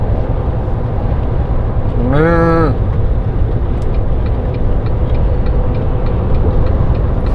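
A single cow moos once, briefly and distinctly, through heavy steady road and engine noise beside a tarmac road lined with trees and passing cars and lorries.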